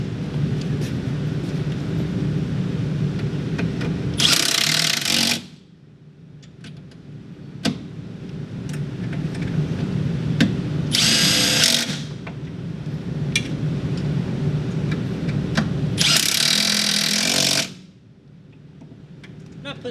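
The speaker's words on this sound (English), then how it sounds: "now we're going to take our Milwaukee and our Torx bit" A Milwaukee drill with a Torx bit slowly snugs screws on the electric cooling fan of a 1998-2004 Volkswagen Passat B5. Three short, loud whirring bursts are separated by pauses over a steady low background rumble.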